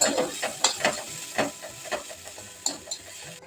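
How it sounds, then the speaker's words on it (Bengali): Vegetables being sautéed in a pan, with a steady sizzle under repeated scraping and stirring strokes of a utensil. No voices. "তখন সবজি সাতলানো যাক"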